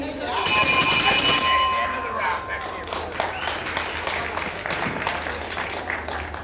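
A bell rings to end a round at a professional wrestling bout, a bright sustained clang near the start, followed by crowd noise and a commentator talking.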